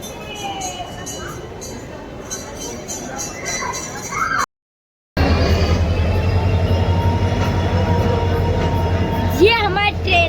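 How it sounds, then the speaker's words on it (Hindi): A train rumbles at a railway station near Delhi with a loud, steady low drone, a brief dropout midway, and faint high squeals near the end, while people talk over it. "ये हमारी ट्रेन है।"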